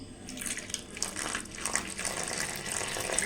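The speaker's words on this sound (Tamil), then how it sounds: "தண்ணி ஊற்றி மிக்ஸ் பண்ண போகிறேன்." Water streams steadily into a custard powder mixture being prepared for a bread custard sweet, giving a continuous close splashing gush with small bubbly surges and no speech.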